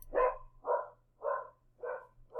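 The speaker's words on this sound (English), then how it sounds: "Dog is barking in the background." A dog barks five times in a steady rhythm, each bark clear and moderately loud in a quiet indoor room, with no one speaking over it.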